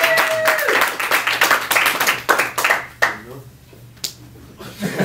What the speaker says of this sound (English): Big round of applause for my volunteer.